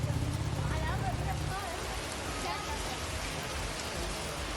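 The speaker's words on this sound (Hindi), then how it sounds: "लगातार बारिश और खराब मौसम के चलते शहर में सन्नाटा पसरा हुआ है।" Heavy, steady rain pours down during a spell of persistent bad weather in a city, a dense broadband hiss filling the clip with faint scattered sounds mixed in.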